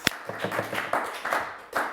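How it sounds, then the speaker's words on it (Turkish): Scattered, modest applause from a quiz show studio audience, a few quick claps and short bursts of clapping, fairly quiet and thin, with no talk over it. "Üzgün alkışa aldık."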